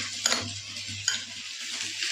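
Spices being mixed into pieces of small river crab, with a continuous low pan sound and a few brief scraping clinks at intervals.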